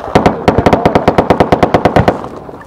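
A PF556 5.56 rifle fires at its high rate on an outdoor range, giving one loud, rapid burst of about twenty closely spaced shots lasting around two seconds.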